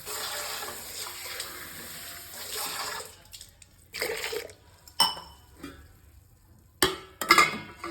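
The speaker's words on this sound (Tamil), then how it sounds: "உடச்ச இந்த சுண்டைக்காயில் தண்ணி ஊற்றி லைட்டாக ஒரு அலசி எடுத்துக்கலாம்." Crushed turkey berries being rinsed in water in a bowl, with a few bursts of splashing and sloshing plus light clinks of dishware, close and fairly loud, with quieter pauses between.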